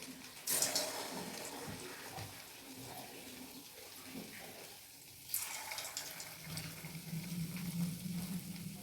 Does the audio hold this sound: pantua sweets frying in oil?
yes